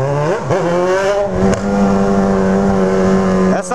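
A Yamaha XJ6 motorcycle fitted with a very tall exhaust roars loudly up close, a steady rich engine drone with brief revs and dips in pitch near the start and at the end.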